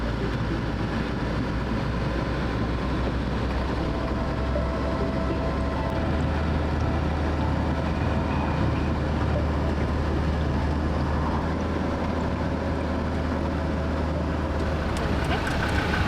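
A car cruising along a paved toll highway in Mexico, heard from inside as a loud, steady low rumble of engine and road noise that holds constant without a break.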